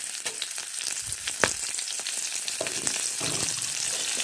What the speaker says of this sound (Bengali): এবার আমি দিয়ে দেবো তেলের মধ্যে পেঁয়াজ কুচি, লঙ্কা চেরা আর জিরা বাটাটা।